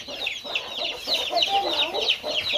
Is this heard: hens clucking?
yes